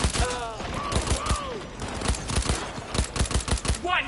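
Rapid bursts of gunfire in the Cyberpunk 2077 video game, a dense run of sharp shots fired in quick succession, with brief gaps and a closer cluster near the end, loud and alone.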